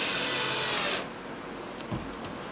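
A power drill drives small screws into a hinge on plywood, a loud close whir that cuts off after about a second, then a brief quieter burst.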